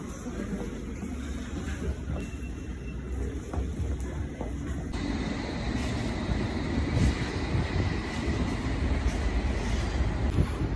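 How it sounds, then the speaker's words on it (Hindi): A London Underground District line train at the station, a continuous low rumble and rolling rail noise that swells slightly as it runs, heard from the platform with no talk. "एक ट्रेन निकल गई है, दूसरी ट्रेन अभी थोड़े टाइम में आ जाएगी"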